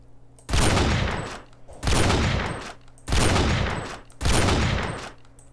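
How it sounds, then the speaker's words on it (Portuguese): Four loud modded sniper rifle shots from GTA San Andreas fire at a steady interval of about 1.2 seconds, each a sharp crack with a long rolling tail. Nobody speaks. "Agora o tiro da sniper."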